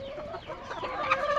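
Chickens on a chicken farm cluck and call in quick overlapping bursts, fairly faint and somewhat distant, with no one talking.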